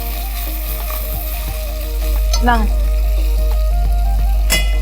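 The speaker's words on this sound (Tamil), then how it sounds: "நல்லா வதக்கி கொடுத்துடலாம். கூடவே புதினா." Mint leaves sauté in a hot pan while biryani is being made, a steady loud sizzle and fry with occasional stirring scrapes and clinks.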